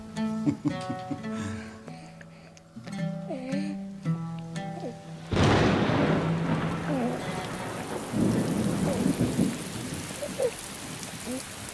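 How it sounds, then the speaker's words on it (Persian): Heavy rain with thunder bursts in suddenly after a stretch of music, a loud dense downpour with rolling rumbles that swells and continues to the end with no talk over it. "این باران هم از برکت قدوم توست فرزندم."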